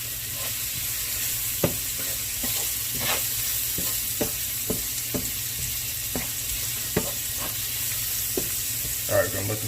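Peppers and onions stir-fry in a pan with seasoned brisket for a southwest egg roll filling, sizzling steadily up close while a utensil scrapes and stirs in a loose, repeated rhythm.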